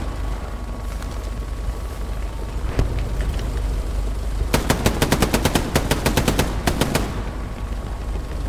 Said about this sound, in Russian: Вот оттуда прям по нам летит очередь.